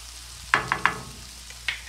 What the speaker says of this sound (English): the sausage is just about cooked all the way through. So I'm gonna go ahead and lower the heat to low